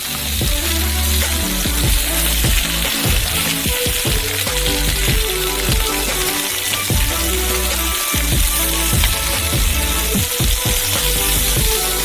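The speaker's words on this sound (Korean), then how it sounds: "바싹하게 재빨리 구워요." Ribs searing quickly in a hot pan until crisp, a loud, dense frying sizzle that crackles and pops continuously with occasional stirring scrapes, close up and with no voices.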